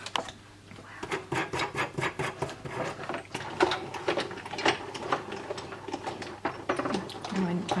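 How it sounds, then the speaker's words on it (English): A hand-cranked crossover die-cutting machine runs close by, giving a rapid series of clicking, ratcheting pulses that continue steadily, with a voice talking faintly over part of it. "Bit of low tack tape and back to our crossover machine."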